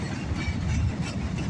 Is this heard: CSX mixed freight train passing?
yes